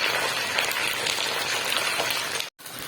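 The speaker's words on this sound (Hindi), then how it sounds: "अब हम इसके अंदर सूजी डाल देंगे।" Semolina stirred into hot, sizzling sugar syrup while cooking halwa, a steady loud frying hiss and bubbling that runs throughout, broken by a brief silent gap near the end before resuming.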